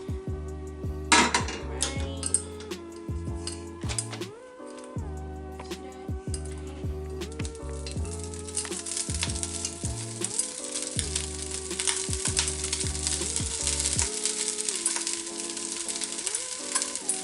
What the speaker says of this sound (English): my Italian sausage, and I'm also gonna cook my onions down a little bit before I add it as a topping